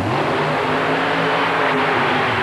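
A 1932 Chevy 5-window coupe with a nitrous-injected, fuel-injected Chevy engine roars loudly and steadily at a 1991 USHRA Oklahoma City race, a deep sustained rumble with harmonic drone, launching hard down a strip.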